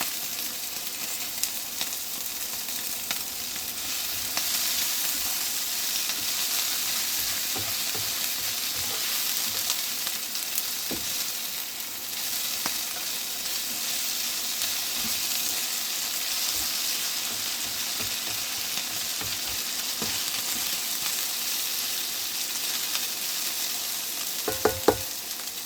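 Mince and onion fry gently in a pan for a stew, giving a soft, even sizzle that runs without a break, with a few faint utensil clinks near the end.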